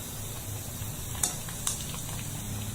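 Sabudana vada frying in oil gives a soft, steady sizzle, faint and close, with two brief clinks of a utensil partway through and no talking.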